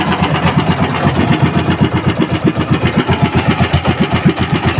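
A medium boat engine chugs steadily at close range, its rhythmic pulsing loud and even throughout, like a boat motor idling, being readied for a Pacific Ocean fishing trip.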